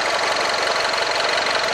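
Steady, loud running of a BMW Mini Cooper S coupe engine that had trouble starting after being overfilled with oil and is now smoking, heard close with a constant hum and rattle and no talking.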